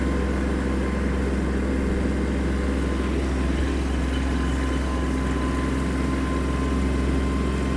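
Kubota GL-25 Japanese mini tractor driving and turning in place, its engine a steady, continuous low rumble with a constant drone throughout, close by and with no talk.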